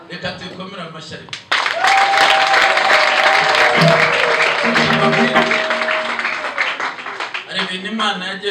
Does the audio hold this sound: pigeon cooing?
no